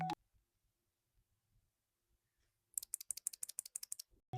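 Typing on a full-size 104-key Yunzii QL108 mechanical keyboard with retro shine-through keycaps: after a quiet stretch of faint taps, a close, crisp burst of about a dozen rapid key clacks with a final click.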